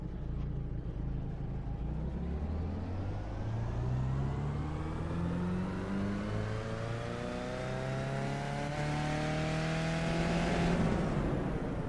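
A race car engine in the iRacing sim climbs steadily at full throttle in first gear, its pitch sweeping upward for several seconds before falling slightly as it settles. The engine is loud and continuous, with no talking.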